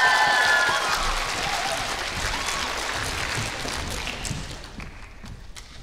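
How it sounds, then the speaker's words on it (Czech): Audience applause at a dance contest finale, loud and dense clapping that fills the hall at first and then slowly thins and fades over several seconds. "Velký potlesk!"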